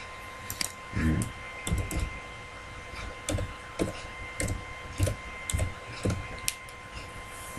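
Keys tapped on a computer keyboard while entering a Facebook username, an uneven run of light clicks in short bursts, close and fairly quiet.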